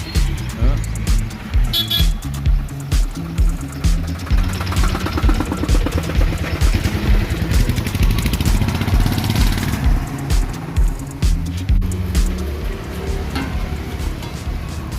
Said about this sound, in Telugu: రోడ్డు చూడండి బిజీ బిజీ బిజీ బిజీ వచ్చే కార్లు హడావుడి